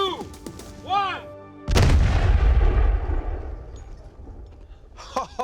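A period-accurate pirate-era gun fires a single test shot with a deep, loud boom that rolls out over several seconds, and people speak briefly before it.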